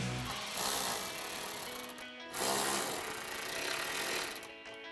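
A 10mm socket drives bolts tight on a Barricade Extreme HD modular grille guard for a Tacoma, with steady, close ratcheting or power-driver whirring in two long bursts and a brief pause between them.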